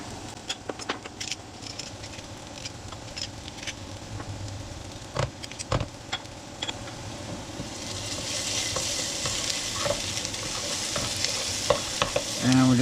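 Tomato paste and garlic stirred into browning onions in a pan, a soft continuous sizzle with repeated scraping clicks of the utensil, growing louder and hissier toward the end, close with no talking.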